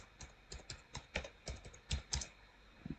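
Quick bursts of computer keyboard typing as a coding prompt is entered, irregular close keystrokes with short pauses between clusters, no voices.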